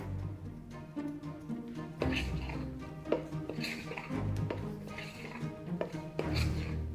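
Metal spoon folding cake batter for a sprinkle tray bake, with soft, repeated scraping and clinking against a bowl. The strokes are steady and close, and there is no talk.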